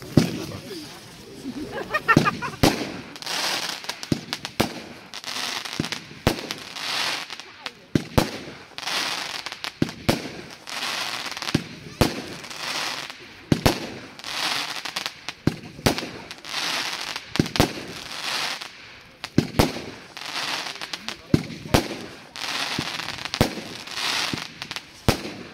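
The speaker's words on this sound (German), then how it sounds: "Zündpunkt Nummer 9, Gorilla Attack, 19 Schuss, 30 Sekunden Brenndauer" Gorilla Attack firework battery at a musical fireworks display, 19 shots with silver whirl rises and multicolor bouquet bursts: a rapid run of sharp pops and crackling bangs, loud and irregular, over a faint murmur of onlookers.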